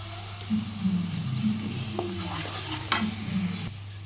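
Chicken fry sizzling and being stirred in a pan with ginger, with steady frying hiss and a few scraping stir strokes, close and moderately loud, no talk.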